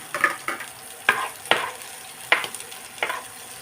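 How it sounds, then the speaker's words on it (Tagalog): Garlic sautés in a pan, with a soft background sizzle punctuated by about six sharp, irregular scrapes and clinks of a utensil stirring against the pan. "Silagay na natin yung bawang."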